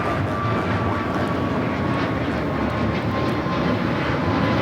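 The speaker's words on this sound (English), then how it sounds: "This is American Airlines Flight 59 taking off to Kailua, Kona on the A321neo" An American Airlines A321neo takes off at Los Angeles airport, its jet engines giving a loud, sustained roar with a steady whine riding on top and no voices.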